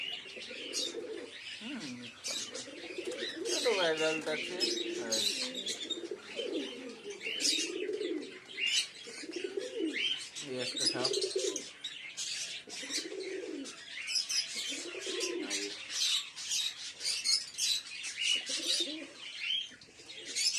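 Pigeons, including a young Chini Shira and Madras birds, gather in mild sunshine after rain and coo repeatedly in rolling overlapping calls, with chirps and a brief wing flutter, while someone talks now and then.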